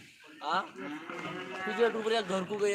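A four-toothed pure HF cow at the busy Loni cattle market lets out a loud drawn-out moo up close, followed by further lowing amid crowd noise.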